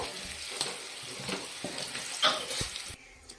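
Frying sizzle from green beans in oil, a steady hiss with a few sharp pops and clatters near the end, close by and moderately loud.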